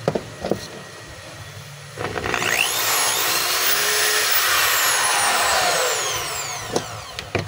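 Stanley SDH600 half-inch hammer drill powering up after a click, spinning up to a loud steady whine that holds for several seconds, then winding down, with a few sharp clicks before and after.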